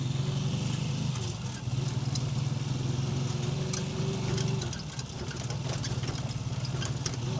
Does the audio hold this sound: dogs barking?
no